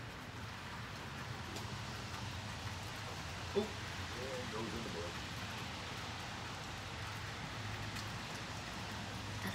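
Steady rain falls outdoors onto pavement in a continuous, even hiss at moderate level, joined by a low background rumble and one brief louder tap partway through, with no talking.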